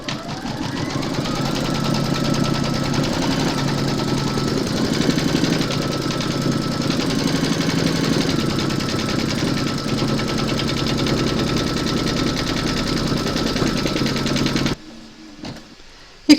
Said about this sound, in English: hoop into your machine and stitch round number 3 to secure them